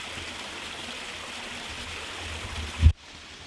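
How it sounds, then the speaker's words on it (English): Small waterfall beside a big mossy bank in bushland, a steady broadband rush of falling water heard alone at moderate distance, with a brief thump near the end before the sound cuts lower. "this big mossy bank is right next to bit of a waterfall over there"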